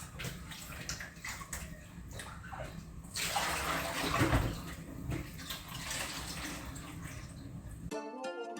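Tap water runs and splashes steadily over ingredients being washed by hand for Jamaican pumpkin soup, growing louder and fuller midway, then cutting off abruptly near the end.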